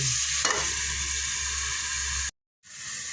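Ingredients for tinola sizzle steadily in a hot pan, a bright continuous hiss with a brief stir near the start, cutting out abruptly for a moment before the frying resumes.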